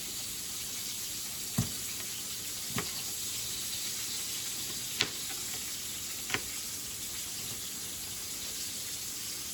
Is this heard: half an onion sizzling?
yes